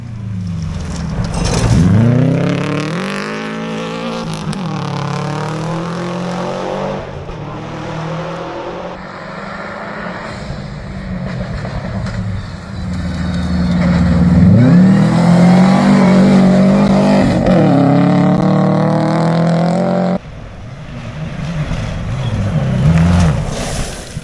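A two-wheel-drive Subaru BRZ rally car races along a rally stage, its engine loud and close. The revs climb hard, drop sharply at gear changes and surge again, with repeated accelerations across the run.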